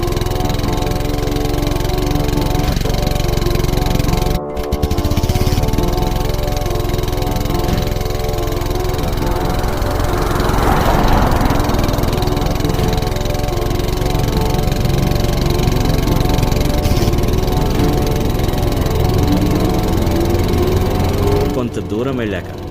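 A motorbike engine drones steadily and loudly as it rides alone down a busy highway at night, holding a constant hum with a brief break partway through and no voices.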